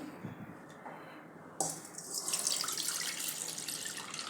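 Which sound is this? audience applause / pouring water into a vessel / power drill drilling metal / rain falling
pouring water into a vessel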